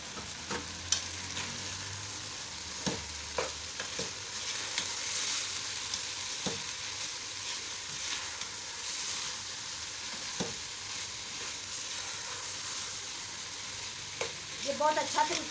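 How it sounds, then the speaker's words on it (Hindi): Eggplant and potato pieces fry in oil with turmeric, red chili and salt in a home kitchen, giving a steady soft sizzle with a few clinks of a spoon against the pan. "ये बैंगन और आलू फ्राई हो गया"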